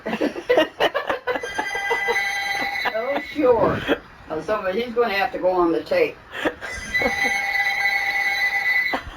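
A telephone hidden somewhere in a room rings in repeated electronic bursts, partly masked by people talking nearby.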